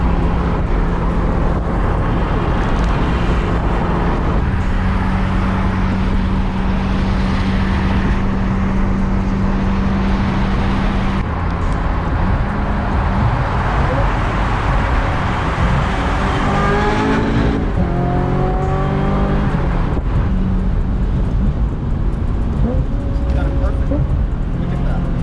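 A 25-year-old Ferrari engine roars loudly from inside the car, climbing through the revs toward 9000 RPM with rising and falling pitch sweeps as it shifts through gears in a tunnel, and voices talk over it.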